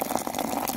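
River water poured into a pot for brewing tea at a riverside campfire camp, a steady close trickling and splashing that runs continuously through the short moment with no talking.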